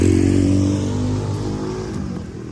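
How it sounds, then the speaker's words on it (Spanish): A motorcycle engine revving near a lookout at Calderitas, loud and close, with a deep rumbling tone that slowly fades as the bike pulls away. "disculpen el ruido de la moto"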